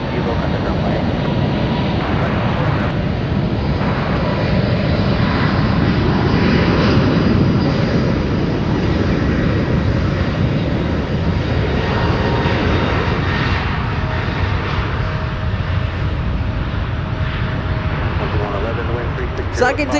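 An airliner lands at San Francisco airport, its engines giving a loud, sustained roar with a slowly shifting rumble, while people talk over it throughout.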